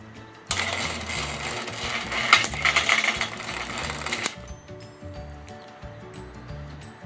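Antique garage door opener mechanism running, a busy mechanical chatter and whir for several seconds that cuts off abruptly, leaving a quieter rhythmic ticking and clicking.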